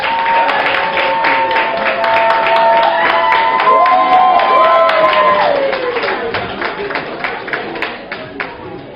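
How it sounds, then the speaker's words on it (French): An audience at a children's talent show applauds the first-place winners, a continuous wash of clapping with cheering and tonal music or voices running over it, steady and loud before thinning toward the end. "On les applaudit très très fort."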